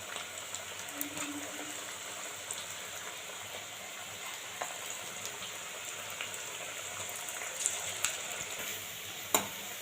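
Chicken mince pakoras, Bengali spicy style, frying in hot oil with a steady, faint sizzle that continues throughout, broken by a few soft clicks and stirring sounds, with no talking.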